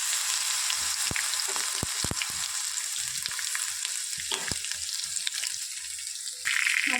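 Garlic and green chili paste frying in hot oil with mustard seeds and cumin for kadhi, a continuous crackling sizzle punctuated by sharp pops and occasional stirring clicks, close up with no voices.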